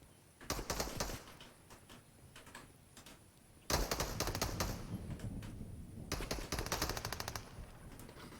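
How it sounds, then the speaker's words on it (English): Rapid bursts of video game gunfire, loud machine-gun rattles in three long stretches with short pauses between, dense and close. "Everybody's shooting."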